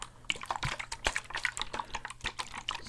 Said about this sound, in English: I guess we call this sloshing, kind of like water sloshing